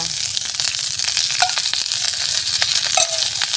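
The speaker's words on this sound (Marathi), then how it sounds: "आपण आता थोडं तेल टाकूया पानं भाजायला" Curry leaves roast in oil in a pan, giving a loud, crackling sizzle with bursts of sharp spits and pops over a continuous hiss, heard up close without any talking.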